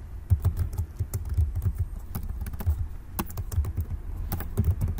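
Rapid clicking of keys on a computer keyboard as JavaScript form validation code is typed, close and steady with brief pauses between bursts and no talking.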